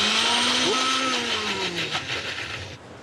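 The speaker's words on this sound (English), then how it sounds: "Add them to our blender here." A blender motor whirs through cilantro, sugar and tamarind for a chutney. The motor is loud at first, its pitch drifts lower, and it cuts off near the end.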